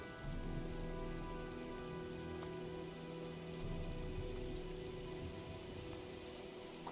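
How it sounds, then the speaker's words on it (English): Steady rain falls throughout in the 2010 video game Heavy Rain, a dense continuous patter on surfaces with low rumbling swells suggesting an approaching storm, no voices. "Well, looks like a storm's coming."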